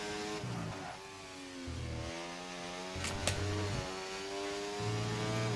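McLaren race car in a racing video game at the Catalunya circuit, engine droning steadily through rising and falling revs and gear changes, fairly quiet and continuous without speech.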